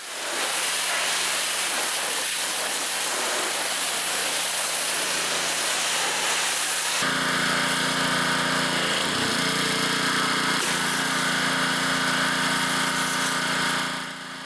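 Water spray pre-rinsing a car, a loud steady hiss of spray, with a motorized pressure-washer hum and a changing tone as the nozzle is moved partway through.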